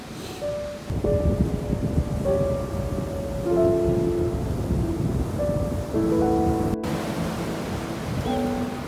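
Waves wash continuously on a beach during a wild-camping coastal walk, with a broad steady roar and a brief lull near the start. Soft tonal chirps, probably birds, sound faintly over the surf.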